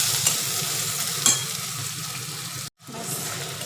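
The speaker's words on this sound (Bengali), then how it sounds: "আলুগুলো দিয়ে দেবো এর সাথে দিয়ে দেবো কাঁচা লঙ্কা চেরা দিয়ে এবার এটাকে ভাজবো" Potatoes and slit green chillies frying in a pan, a steady close sizzle with a couple of light clinks, briefly dropping out before the hiss resumes.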